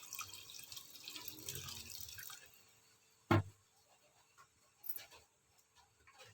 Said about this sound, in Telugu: మన పప్పుకు సరిపడే ఇక్కడ వాటర్ని అయితే వేసేసుకొని